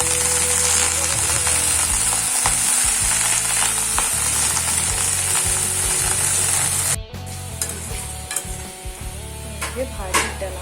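Fenugreek leaves (methi) fry with cooked potatoes in a pan, a steady loud sizzle with stirring scrapes that drops abruptly to a quieter crackle partway through, no talk.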